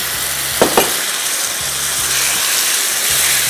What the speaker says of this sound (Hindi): इसको तेज़ आंच पे हमने मैक्सिमम 3 से 4 मिनट फ्राई करना है